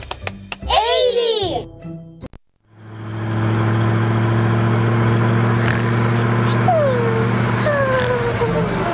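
A cartoon car drives in the Endless Numbers counting game, a steady mid-pitched engine drone running loud and continuous after a burst of childlike voices and musical chimes, with brief rising and falling whistle-like tones over it.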